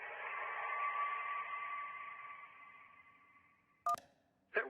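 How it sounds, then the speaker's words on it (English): A phone ringing underwater, rendered as a muffled effect in the game Kentucky Route Zero: a steady warbling filtered tone that slowly fades, followed by a sharp keypad beep and a brief voice. "That was a phone ringing"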